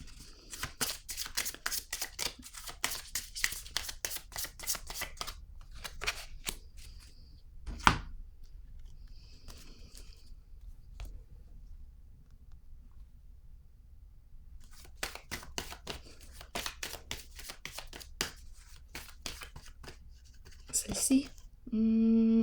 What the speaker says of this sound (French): Je vais déposer quelques cartes